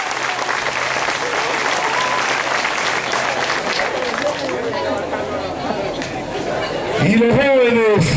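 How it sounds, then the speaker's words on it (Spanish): A large crowd gives loud, sustained applause for the women of San Francisco Libre at a Sandinista rally, thick clapping mixed with cheers and chatter that thins toward the end as a voice rises. "Y un aplauso para las mujeres de San Francisco Libre."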